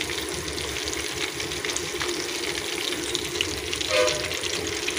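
Ragandi fish frying in a pan of hot oil, a continuous soft sizzling hiss with a low rumbling undertone, steady and fairly close, no speech.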